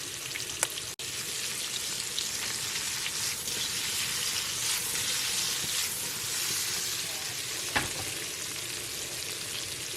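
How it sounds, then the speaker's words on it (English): Flour-dusted squid caught off the Arno Bay jetty fry in hot oil, giving a steady, close hiss and crackle with occasional sharper pops throughout. "all dusted in flour, getting ready to go into the hot oil"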